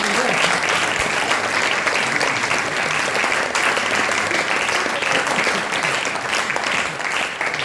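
An audience at a Velenje gymnasium anniversary event claps steadily and loudly, a dense, sustained wash of applause that continues without pause.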